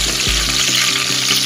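Onions frying in oil for a home-style amaranth (arai keerai) curry, with a steady close sizzle and a few soft stirring strokes through a short burst, no voices.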